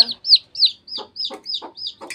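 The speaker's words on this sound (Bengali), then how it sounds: "মিল্কির মুরগির সব খাবার সরঞ্জাম এখানে" Several short, high, squawking calls from a young hen, close by, each burst followed by a lower rough cluck in a quick, uneven series.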